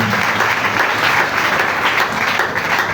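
Congregation at a French- and Yoruba-language church service applauding for the Lord Jesus, a dense, steady wash of many hands clapping close by for the whole stretch.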